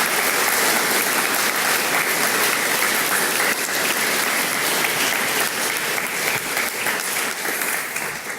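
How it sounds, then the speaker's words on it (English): Sustained applause from the audience at the Bram Fischer Memorial Lecture, a loud, dense, hall-filling patter of many hands that stays steady throughout. "I'd like you to give them a round of applause"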